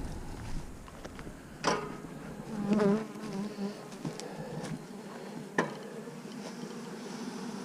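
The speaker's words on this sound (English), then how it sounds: "These bees are still in lockdown." Honeybees in a small colony that has no queen, buzzing up close with a steady hum, a few louder passes and scattered clicks and knocks from handling the hive.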